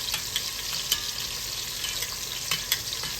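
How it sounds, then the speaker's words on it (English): Kielbasa sausage fries in its own rendered grease in a pan, a steady close crackling sizzle with scattered sharper pops throughout. "little color on that sausage, yeah, y'all. Let that natural grease come out of there."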